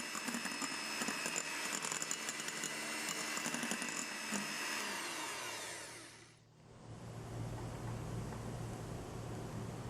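An electric mixer beats eggs with sugar for a peach cream cake, whirring at a steady high pitch. Partway through, the motor dips briefly and then settles into a lower, continuous drone.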